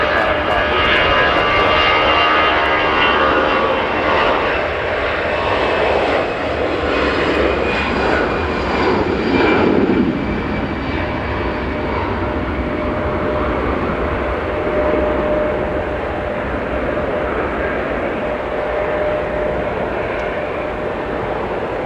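An airliner rolls off runway 12 Right at Minneapolis–St. Paul airport during a winter storm. Its jet engines whine and roar steadily up close, with a high tone running throughout and a slight fade after the first half.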